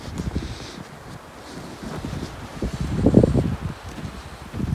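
Gusty wind with blowing snow rumbles and buffets close by beside a village stream, rising and falling, louder toward the middle and end.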